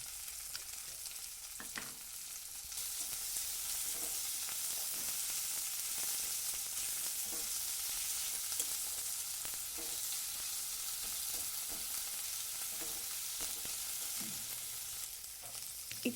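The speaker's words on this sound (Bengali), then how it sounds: "আদা রসুন বাটাটা দিয়ে দিলাম।" Ginger-garlic paste and tomato sizzle in a pan for a spinach paneer dish while a spoon stirs them. The frying hiss stays steady and close, with scattered scrapes of the stirring, and no one speaks.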